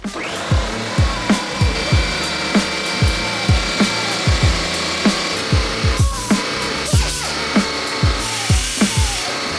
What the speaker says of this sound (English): I need to mark that off and then get my air tool, shave it down so we can actually bolt it in all the way.